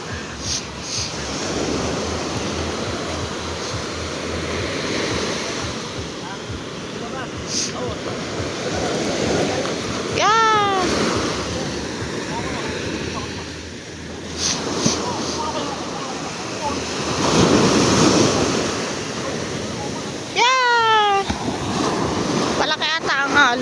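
Broad, rushing ocean surf with large waves, wind buffeting the microphone, rising and falling throughout, with a few high squeaky tones cutting in briefly.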